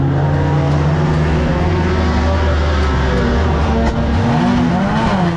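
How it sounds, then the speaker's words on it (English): A banger race car's engine restarts after a clutch dump, with a loud, close, continuous rumbling drone that revs and shifts pitch throughout, rising and falling near the end. "Dump the clutch, trying to get the engine to go start again. It gets started."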